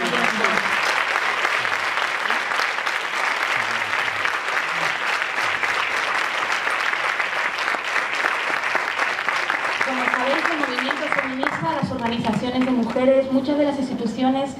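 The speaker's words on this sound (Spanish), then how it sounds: "me vais a permitir que el primer aplauso sea para ellas" Sustained audience applause at a Spanish political speech on gender violence, dense and steady for about eleven seconds before fading into a single voice speaking over the last of the clapping.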